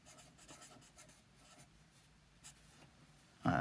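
A stylus writes in joined-up script on an electronic notepad, giving a soft continuous rubbing scratch with small bursts, close up, before a louder sound cuts in at the end.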